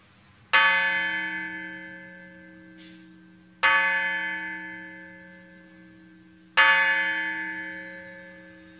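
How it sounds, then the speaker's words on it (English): A large peace bell struck three times at a ceremony at slow, even intervals, each deep resonant clang ringing out and slowly fading before the next strike. "honor us with the ringing of the peace bell"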